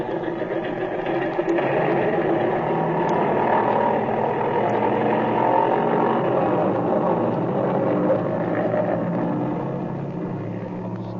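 Old-time radio drama airplane engine in flight, a steady droning hum that runs unbroken throughout at moderate level.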